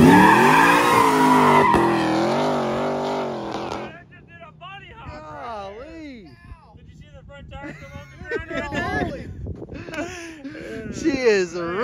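A supercharged 427 GMC truck makes a first-gear launch. A loud, roaring engine rises and tires squeal, then people whoop and shout excitedly over the fading noise.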